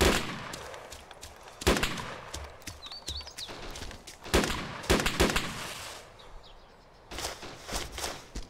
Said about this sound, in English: We just got shot at.